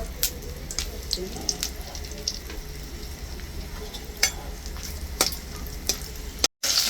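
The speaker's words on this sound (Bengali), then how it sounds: "তেজপাতা দিলাম এলাচ লঙ্ক" Bay leaf, cardamom and chili frying in hot oil for a desi chicken curry, a steady close sizzle with scattered sharp pops and crackles and light stirring, no talk.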